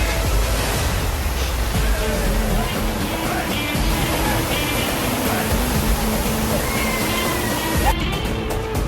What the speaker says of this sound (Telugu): చూడండి వాటర్ ఎంత స్పీడ్గా వెళ్తున్నాయో